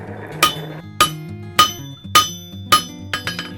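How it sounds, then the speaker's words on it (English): A knife blade is hammered out on an anvil, six sharp ringing metallic strikes at a steady, slightly uneven pace, close and loud, with quick light taps at the end. "the same thing when you hammer the blade out"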